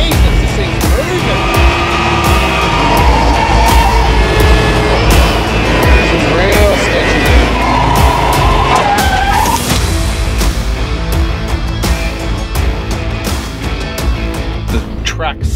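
A supercharged, methanol-fuelled Daihatsu Midget does burnouts, its engine roaring loud and sustained with screeching tyres and some squeals, the noise steady throughout and slowly fading near the end.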